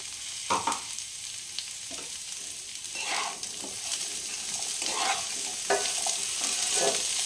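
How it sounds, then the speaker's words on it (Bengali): Pumpkin, potato and dal fry in a pan for vegetarian sabudana khichuri, giving a soft continuous sizzle broken by intermittent scrapes and clicks of stirring. "এটা একটু ভালোভাবে ভেজে নিতে হবে, ডালটা, কুমড়োটা আর আলুটা।"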